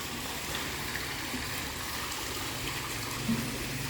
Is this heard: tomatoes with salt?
no